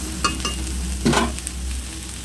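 Leaves frying over low gas in a covered pan, a soft steady sizzle with a few short scraping stirs and one louder hissing burst, near and moderately loud over a low hum.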